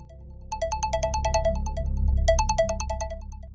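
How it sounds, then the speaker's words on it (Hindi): A bright, repeating electronic phone ringtone plays in two bursts of quick melodic tones over a low background hum. "तभी समीर की मोबाइल की रिंग बजी।"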